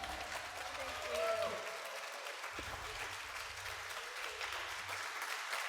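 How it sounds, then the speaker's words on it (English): Faint, distant audience applause after a live performance at a museum, a soft steady patter of clapping with low rumble beneath and a few indistinct voices. "Let's give her another round of applause."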